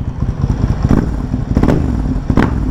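A Ducati Hypermotard 796 supermoto engine revs loudly and up close, a rough, throbbing exhaust note that swells and falls in steady bursts with no talk over it.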